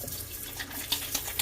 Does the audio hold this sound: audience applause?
no